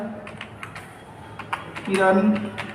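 Someone types a college name on a computer keyboard, a run of light, irregular key taps at close range, partly under a speaking voice that grows louder toward the end.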